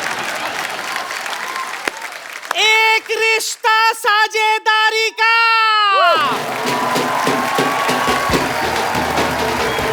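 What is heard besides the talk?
audience applause for the show team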